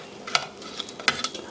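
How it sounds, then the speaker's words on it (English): Chicken wings are tossed and stirred into hot Korean sauce in a pan, with wet sticky scrapes and a few sharp clinks against the cookware over a low steady sizzle, close and without talking. "so we're just going to take our chicken wings,"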